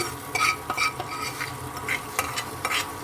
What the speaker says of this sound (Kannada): ಇವಾಗ ಒಗ್ಗರಣೆ ಹಾಕ್ಕೊಂಡಿದ್ದೀನಿ